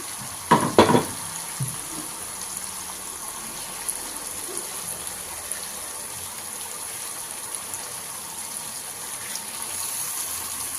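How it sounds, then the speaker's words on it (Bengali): Hilsa fish pieces go into a hot pan with a brief loud clatter and splash, then settle into a faint, steady sizzle that continues quietly to the end. "এখন মাছগুলো দিয়ে দিচ্ছি"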